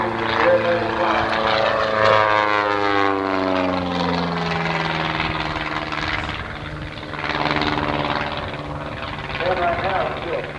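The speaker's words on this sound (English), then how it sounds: "he does an outside snap roll at the top of that loop" A propeller aerobatic airplane performing at the 1989 Oshkosh airshow, including an outside snap roll atop a loop, drones loudly and close by as its engine pitch sweeps downward while it passes. Faint voices sit beneath the engine.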